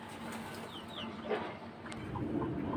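Pigeons in a loft give faint, low cooing calls in short bursts against a quiet background of soft room noise.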